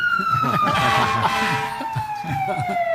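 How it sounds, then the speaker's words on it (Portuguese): Siren sound effect played on a Brazilian TV sports talk show, a steady wailing tone sweeping slowly downward, loud and continuous, with crowd chatter and voices murmuring underneath. "Tocando a sirene do Fábio Luciano."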